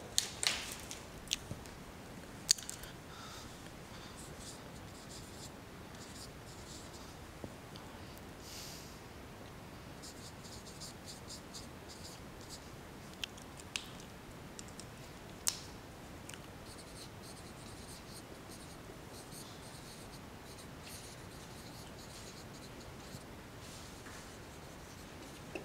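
Chalk or marker writing sentences on a classroom board for an English grammar lesson, faint scratchy strokes with a few sharper taps early on, quiet and continuous with no talking.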